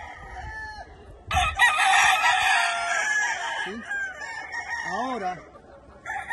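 Roosters of long-tailed, long-bodied, short-legged fighting lines crow loudly and at length, with clucking and other crowing nearby, while someone speaks briefly at the start.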